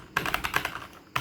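Quick, uneven clicking of keys on a computer keyboard as a command is typed, close and fairly quiet, with no voices.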